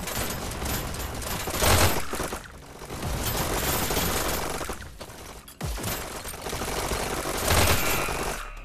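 Rapid gunfire at a shooting range in the VR game Hyper Dash: dense, continuous bursts of shots fill most of the stretch, with brief lulls and sharper volleys near the start and end.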